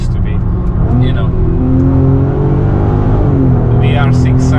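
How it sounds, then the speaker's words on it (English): A VW Golf R32 with a VR6 engine, just back from a timing chain replacement, revs in a loud, steady drone from inside the car while someone talks over it. "the VR6 sound, very nice"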